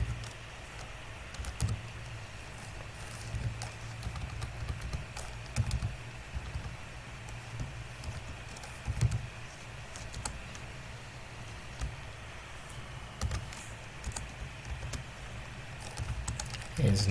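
Computer keyboard typing while writing programming code, a steady patter of light key clicks at moderate level under a constant low background hum, with no voices.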